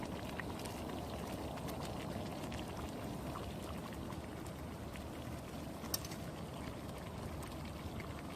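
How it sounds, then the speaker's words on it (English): A pot of meat and noodles boils steadily on the stove, giving a soft, constant bubbling and simmering hiss with an occasional small pop, heard close up without any talking. "you can see here it's boiling, and it has the meat and the noodles in it"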